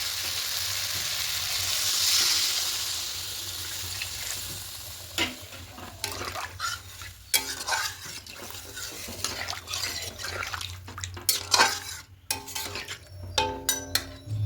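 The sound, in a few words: adding water to spiced potatoes in a pan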